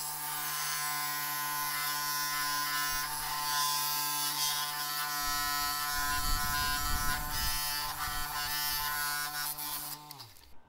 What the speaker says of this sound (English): I use the high-tech diamond 10-inch saw with the thin centered blade